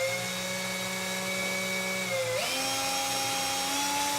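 A spinning wooden dowel clamped in a drill whines steadily with bright tonal harmonics while a file strip or nail file tapers it. The pitch shifts partway through as pressure changes, with no talk.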